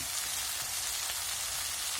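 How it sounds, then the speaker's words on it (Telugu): Food fries in hot oil with turmeric in a pan, giving a constant soft sizzling hiss, steady and close with no voices over it. "చూడండి బాగా నూనెలో అంతా ఏగిపోతూ ఉంది"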